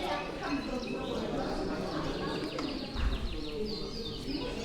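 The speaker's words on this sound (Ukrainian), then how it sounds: "канарки." Canaries at an outdoor canary exhibition near a seaside promenade chirp and trill in overlapping bursts, moderately close, mixed with people chatting and general crowd noise.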